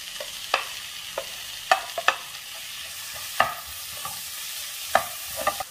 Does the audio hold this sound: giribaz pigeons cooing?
no